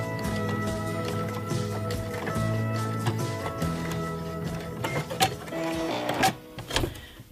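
A sewing machine stitches a drawstring bag in a steady mechanical whirr with rhythmic ticking, close and fairly loud, ending with a few irregular knocks and clicks.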